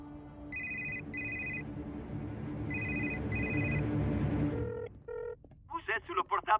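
A cartoon mobile phone in a French football cartoon rings with repeated bright electronic ringtone bursts over background music and voices, followed by short beeps, then a character speaks.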